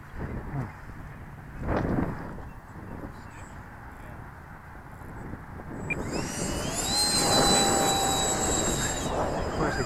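A Freewing P-15 radio-controlled jet plane flies on a windy day, its ducted-fan whine rising and sweeping in pitch as it passes closer, under gusty wind noise and voices talking.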